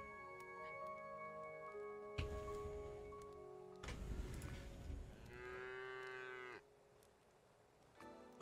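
Cattle in the video game Craftopia moo in several long, drawn-out calls, loud and close, with short gaps and a quieter background tone between them.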